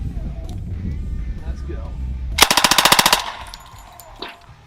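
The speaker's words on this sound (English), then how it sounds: "very fun, very controllable machine gun to shoot" An American WW2 submachine gun in .45 ACP fires one rapid burst of about a dozen loud, close shots over under a second. Someone speaks over low rumble before the burst, and faint clatter follows it.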